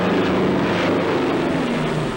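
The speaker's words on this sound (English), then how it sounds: "the convoy is being attacked by low-flying bombers" Low-flying bomber aircraft attacking a convoy, a loud, steady engine drone that stays constant and fills the whole span with no voices over it.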